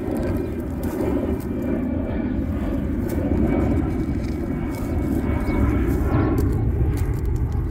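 Airplane passing over a vegetable garden with tomatoes, eggplants, onions and beans, a steady low rumble holding at constant loudness throughout.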